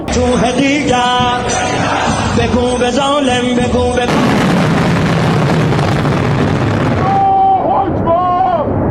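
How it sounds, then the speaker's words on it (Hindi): Loud explosions from a missile strike in news footage, a dense roaring blast with booming bursts and rumbling debris, continuous and close throughout. "उसके बाद आप देख रहे हैं बड़ा धमाका हुआ और धुएं का गुबार"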